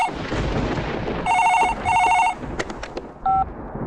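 A telephone rings in two short bursts, followed by a few clicks and a brief electronic beep, with a faint background hum, in a film scene.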